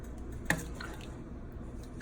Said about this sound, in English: Still has a lot of water in there, so we're gonna let it simmer.